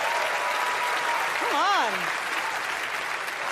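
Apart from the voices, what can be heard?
audience applause for Donald Trump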